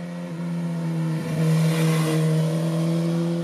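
Suzuki Katana motorcycle fitted with an Akrapovic exhaust accelerating nearby, a steady loud engine drone whose pitch rises slightly mid-pass and holds, with no talk over it.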